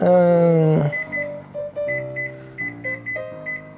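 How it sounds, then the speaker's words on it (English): A kitchen timer set for cooking soya pasta beeps in a rapid run of short electronic tones, then pulses in a steady repeating pattern, loud and close with no talk over it. "I should probably put a timer on."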